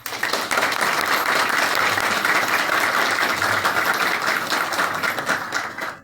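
Loud, sustained applause from an audience at the installation ceremony for the new director general of the Ministry of Agriculture, Natural Resources and Rural Development, a steady wash of clapping lasting about six seconds.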